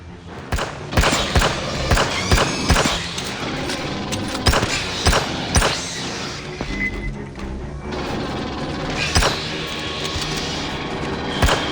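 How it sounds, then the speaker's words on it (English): Heavy banging echoes through the ducts in the Aliens Fireteam Elite shooter, with repeated dull thumps and crashes spread irregularly across a dense, loud game soundscape of rumble and effects. "Wait, I hear banging in the ducts!"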